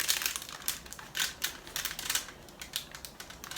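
Crinkly gift packaging is handled up close, producing a stream of sharp crackling rustles in irregular bursts, fairly loud with no voices.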